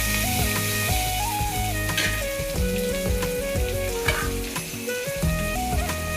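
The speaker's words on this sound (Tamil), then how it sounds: "பச்சை பட்டாணி வேகுது பாருங்க." Green peas and vegetables fry in a pan with mustard seeds, onion, dried chillies and curry leaves, a steady close sizzle running throughout with stirring clatter and scraping of the spoon over it, while music plays loudly alongside.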